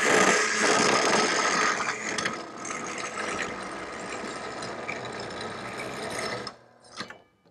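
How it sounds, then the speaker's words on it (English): A Baileigh CS-225M portable cold cut saw slices through metal in a loud, steady grinding whine with a metallic ratcheting texture that holds for about six seconds, then drops away into quieter mechanical clicks as the cut ends. "Okay, now let's demonstrate a cut."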